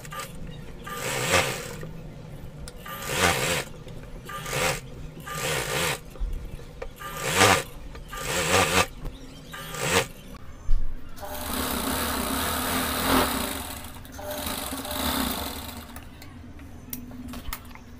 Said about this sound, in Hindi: इसको हम एक बार और डबल सिलाई कर लेंगे।